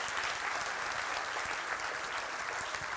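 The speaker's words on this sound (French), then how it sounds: "que ceux qui le croient fassent retentir une main d'applaudissement" A church congregation applauds during a sermon, giving a steady, even wash of many hands clapping at a moderate distance, fairly quiet and unbroken, with no speech over it.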